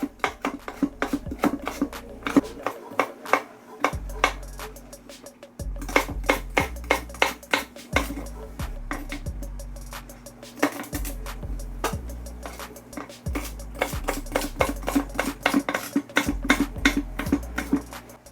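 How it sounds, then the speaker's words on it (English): Steady rhythmic knife chops on a cutting board as carrots and garlic are chopped, close and crisp, repeating in quick bursts with brief pauses, over a low musical backing. "Chopping up my carrots, and then I'm going to chop up some garlic and also some celery."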